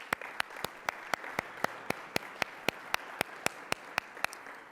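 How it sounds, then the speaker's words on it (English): Steady, evenly paced clapping, about four claps per second, sharp and regular over a soft background hiss. "let's give all of them a round of applause"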